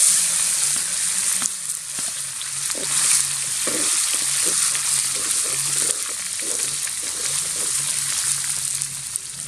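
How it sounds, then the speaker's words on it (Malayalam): Dried red chillies and ginger-garlic paste fry in hot oil for a rabbit roast. A steady, dense sizzle runs throughout, and intermittent stirring scrapes and clinks sit beneath it. "ഒരു 4 വറ്റൽ മുളക് ഇതിലിട്ട് കൊടുക്കുന്നുണ്ട്. ഇതിലേക്ക് ഇനി വെളുത്തുള്ളി ഇഞ്ചി പേസ്റ്റ് ഇട്ട് കൊടുക്കാം."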